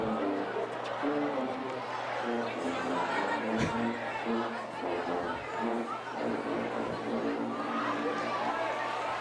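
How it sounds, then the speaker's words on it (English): Crowd noise at a high school varsity football game between the Papillion La Vista South Titans and Kearney Bearcats at Foundation Field, a steady roar of cheering and chatter from the stands that carries throughout, with music and a commentator's voice layered over it. "And you hear the scream from the crowd."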